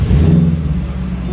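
A Mercedes SL engine, on a car whose ABC suspension has been lowered, runs and revs with a loud, close mid-pitched rumble that eases slightly, no voices over it.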